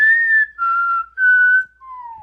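A person whistles a short melodic phrase of four clear sustained notes, close and loud, the last note gliding downward, with no talking.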